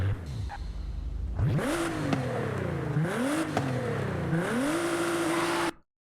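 A car engine in the Forza Horizon racing game revs up hard and climbs through several gear shifts, each pitch rise dropping and climbing again, loud and close before cutting off abruptly.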